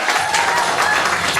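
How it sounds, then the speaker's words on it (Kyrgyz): Wedding guests at a cafe banquet applauding, a dense wash of clapping from a large crowd filling the room continuously. "Кол чабуулар, мырзалар барбы?"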